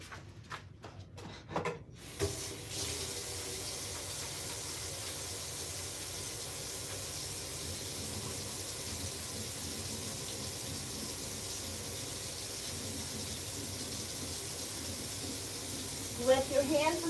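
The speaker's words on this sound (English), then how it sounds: "I'm gonna wash my hands real quick." Tap water runs steadily into a sink while hands are washed during early-morning cooking, a soft continuous hiss with a few clatters at the start and near the end.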